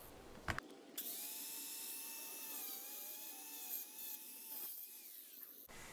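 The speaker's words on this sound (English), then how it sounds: "to go as deep as I can with that 4-inch cutting blade while not damaging the surrounding bricks" Power tool with a 4-inch cutting blade grinding into brick mortar joints, a steady high whine running about five seconds after a brief start-up, close and loud with no talk.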